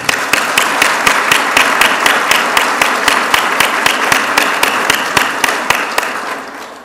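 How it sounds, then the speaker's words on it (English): Sustained applause from an audience at a Tennessee state trooper and dispatcher of the year ceremony, dense steady clapping with sharp individual claps standing out, holding loud throughout and easing slightly at the end. "Another round of applause."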